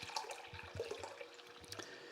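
Water being poured from a tap into a measuring cup on a kitchen scale for sourdough sandwich bread: a steady splashing trickle with small bubbling drips, moderately close and faint, with no speech.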